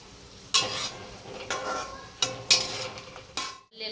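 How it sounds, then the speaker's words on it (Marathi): Chopped onion stirred in hot oil while cooking chicken keema, with a low sizzle and several sharp spatula scrapes against the pan spaced through the clip. "कांदा चांगला गुलाबी कलरचा होईपर्यंत भाजायचा आहे तेलामध्ये"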